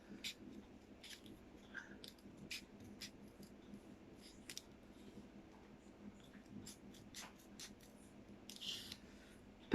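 Scissors snipping through folded paper for an origami Christmas tree, a series of quiet, close crisp cuts spaced irregularly over soft rustling, with no voice.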